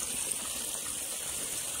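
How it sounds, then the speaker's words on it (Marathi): A river in flood after monsoon rain rushes over a submerged bridge near Kalavantin Durg fort, making a steady, even hiss of moving water that is fairly faint and continuous, with no voices. "तुम्ही बघू शकता भरपूर असं पाणी आलेलं आहे."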